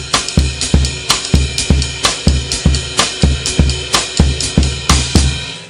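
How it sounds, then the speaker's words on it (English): A Hipgigs 16-inch bass drum in a jazz kit, treated with light reverb and compression, thumping steadily under a full groove with ride and snare, loud and close, with no talking. "That is the sound of this Hipgigs 16-inch bass drum."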